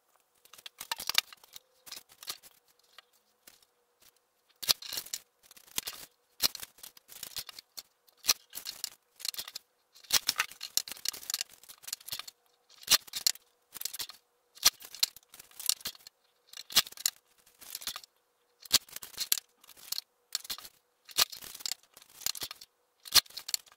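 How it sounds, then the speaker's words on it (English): Scissors cutting a sheet of paper in half for a handmade spiral notebook, a long series of crisp snipping and sliding cuts in irregular bursts with short pauses, close and clear and without talk. "So we'll just cut the paper in half"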